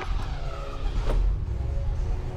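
A Lincoln car with a failed transmission cranks and its engine catches, a steady low rumble filling the clip with a brief louder burst near the middle, close by with no talking.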